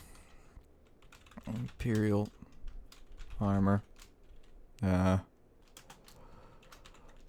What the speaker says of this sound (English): Most fun thing you've ever watched is me typing things out.